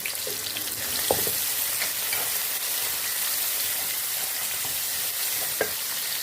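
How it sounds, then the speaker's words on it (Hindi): Onions fry in oil in a pan with whole garam masala spices, giving a steady, close hiss and sizzle with a few brief clinks of stirring, and no voices. "अब इसमें हम प्याज डालेंगे और प्याज को हमने फ्राई कर लेना है।"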